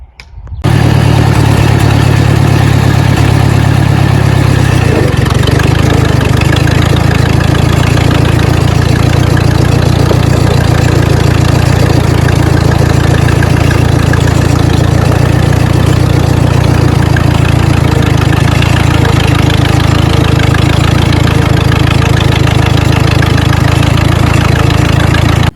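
A Ditch Witch R40 trencher engine starts up and runs steadily, a loud, close, continuous low droning rumble with a knocking edge throughout as the machine moves under its own power, with no talk.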